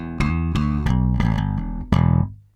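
Bass guitar run through an Empress compressor with a 2K boost, a few plucked notes with bright attacks and sustained tones, played alone and close with no talking.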